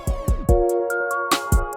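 A programmed drum roll in Logic Pro X with note velocities rising in level, the quick hits growing louder over sustained tonal notes, ending in a bright crash-like burst.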